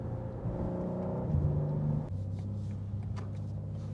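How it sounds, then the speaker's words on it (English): A 2024 BMW M2 G87 with M Performance parts revs with a rising engine growl that cuts off abruptly. The exhaust then settles into a lower burble with a few faint crackles, heard steadily from the cabin. "So people, listen to the burbles and the pops and bangs of the M2."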